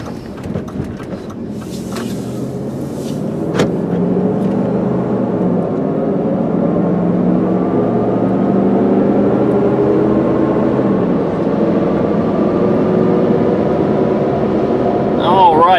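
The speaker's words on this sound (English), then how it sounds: "I will say I hear a little bit of road noise" A 2001 Dodge Durango SUV cruises at about 50 mph, producing a steady low rumble of engine and tyre road noise heard from inside the cabin, with a few faint clicks early on.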